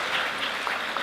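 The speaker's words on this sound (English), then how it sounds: "let's hear some applause with those hands" A room of lunch guests at an awards event breaks into a short burst of applause, a dense, steady patter of clapping hands.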